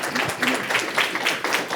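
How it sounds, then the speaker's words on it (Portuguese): An audience at a business panel event claps for André in a short burst of applause, moderately loud and diffuse, with a voice faintly audible beneath it. "palmas para o André"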